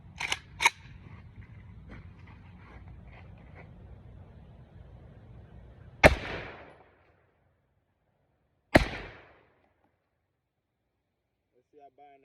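An airsoft Draco with folding brace and binary trigger fires single semi-auto shots: two quick sharp cracks early, then two louder isolated snaps several seconds apart over a steady low hum, with talk underneath at the start.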